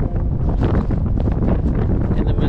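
Strong wind gusting over the Missouri River near Fort Peck, a loud, continuous roaring buffet across the microphone with brief pulsing surges.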